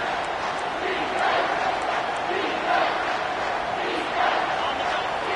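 A stadium crowd in an NCAA college football video game roars steadily, a dense wash of cheering and yelling that swells slightly at times, heard alone without commentary.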